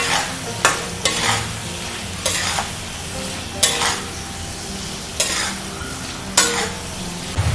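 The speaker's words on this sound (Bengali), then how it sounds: "আর দিয়ে দিচ্ছি ভেজে রাখা উচ্ছে। আবারও একসঙ্গে ভালো করে মিশিয়ে নিচ্ছি।" Fried bitter gourd and green chillies being stirred into a spice masala in a pan, with regular scraping spatula strokes about once a second over a continuous loud sizzle, heard up close.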